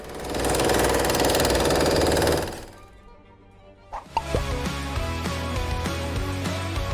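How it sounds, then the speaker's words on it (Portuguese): A jackhammer in operation gives a loud, dense mechanical roar that breaks off briefly, then resumes as a rattling, knocking run of repeated impacts. "ou uma britadeira em funcionamento."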